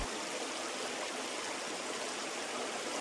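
A river rushes beside a campervan parking spot in the Hohe Tauern, a steady, dense broadband roar of flowing water with no voices.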